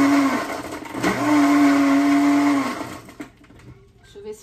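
A kitchen blender whirs as it mixes a sweet drink with sugar, its motor giving a steady, close whine for about two seconds after a brief start, then winding down and stopping.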